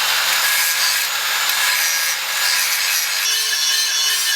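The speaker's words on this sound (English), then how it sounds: "I'm going to start with like a flap disc or something, then we'll probably move to the belt sander and get this thing shaped out" A flap disc grinds and shapes a motorcycle solo seat base for a Grom, a continuous harsh abrasive rasp that holds steady close by for several seconds, with no talking.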